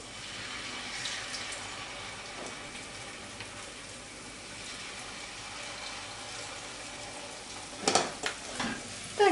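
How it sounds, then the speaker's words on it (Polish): Potato pancakes fry in a pan with a steady soft sizzle, and a few louder clatters and scrapes near the end as they are turned. "Smażymy z jednej i z drugiej strony."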